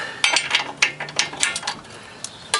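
A ratchet loosening tightly torqued front strut bolts on a 2000 Toyota Corolla, a close run of sharp clicking pawl strokes in uneven bursts that fade out toward the end.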